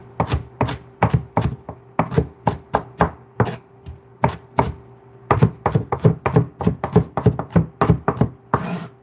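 Onions are chopped on a cutting board with a knife in quick, sharp strokes close up, a brief pause midway before another rapid run of cuts, no voices.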